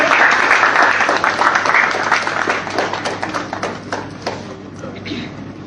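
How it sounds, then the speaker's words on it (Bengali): Audience applause at a student reception honouring university admission achievers, a dense, sustained round of clapping from a crowd that gradually thins and softens toward the end, with some voices mixed in. "সকলে নদিয়াকে করতালি লাগবে।"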